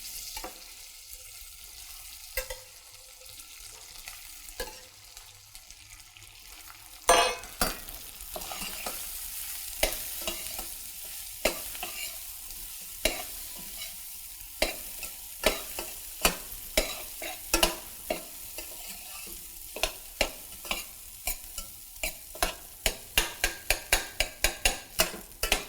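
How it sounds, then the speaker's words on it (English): Rice with chopped onion and turmeric powder is stirred in a pan over a low sizzle, soft at first, then brisker scraping strokes that grow into a quick, regular rhythm near the end, close up and alone. "after adding my chopped onion, I add my turmeric powder. Then after, I add my rice."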